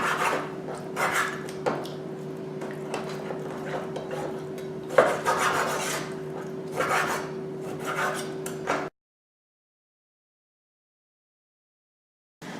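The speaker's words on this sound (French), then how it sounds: "Je vais d'abord commencer par couper la viande en petits morceaux" Lamb meat being cut into small pieces on a board for tikka masala, giving repeated rasping, scraping knife strokes at a steady pace for about nine seconds before falling silent.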